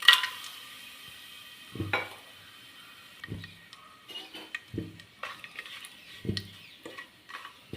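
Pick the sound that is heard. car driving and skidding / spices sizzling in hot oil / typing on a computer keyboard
spices sizzling in hot oil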